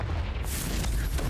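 A loud, dense boom fills this short moment, the Confringo fire blast spell exploding in Hogwarts Legacy on Xbox Series X, with a sharp, bright burst partway through.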